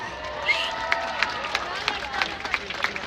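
An audience at a Hungarian festival claps and cheers for a Hungarian folk band, scattered claps and lively crowd voices rising together over a few seconds.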